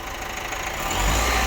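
An Opel Astra J 1.6 CDTI diesel engine (B16DTH) with a timing chain noise rumbles close by, its pitch and loudness climbing slightly as the throttle is pressed.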